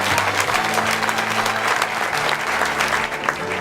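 Wedding guests at Mr and Mrs Lukes' 2017 reception break into steady applause after a heartfelt speech, continuous close clapping from a roomful of people over a low hum of background music.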